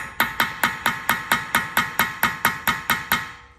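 A one-pound hammer taps a T50 Torx bit seated in the brake rotor retaining screw of a 2016–2021 Jaguar XE, twelve sharp, evenly spaced metallic strikes in quick succession, close and loud.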